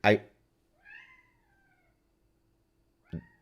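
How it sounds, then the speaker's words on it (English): A cat meows unhappily in a loud opening cry, then a softer drawn-out wail, and after a pause a final short complaining meow. "The cat is not happy."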